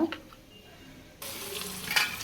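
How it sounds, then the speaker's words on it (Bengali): Spices being stirred and blended in a pan of frying leafy greens, a quiet scraping stir followed by a louder, steady sizzle with clattering as the spoon moves through the pan. "এই যে মশলা ঢেলে নিলাম, মশলা ব্লেন্ড করা হয়ে গেল"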